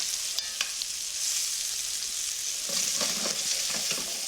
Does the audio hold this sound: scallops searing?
yes